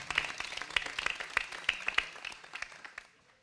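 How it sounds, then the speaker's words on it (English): An audience gives a round of applause for the band at a graduation ceremony, a dense burst of many hands clapping that fades out over a few seconds. "Let's give a round of applause for the"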